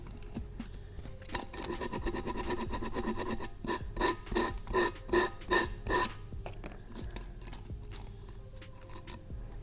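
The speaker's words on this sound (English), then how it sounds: "So now I'm going to take just some sandpaper around the top, just to try to cut these little pieces off." Sandpaper is rubbed around the top of a homemade Halloween pumpkin decoration: quiet, close rasping strokes that build into a quick rhythmic run of about half a dozen scrubs, then fade.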